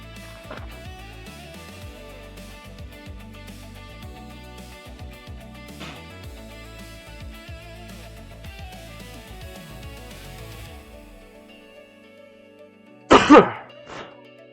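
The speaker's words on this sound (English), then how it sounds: "Because I'm getting tired of coughing on stream." A person gives a single harsh throat-clear near the end after a long stretch of quiet background music, close to the microphone, while building a Gunpla model on a stream.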